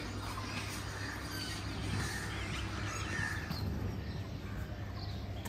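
Crows caw several times at a distance during an outdoor evening walk, faint and repeated over a steady wash of background noise.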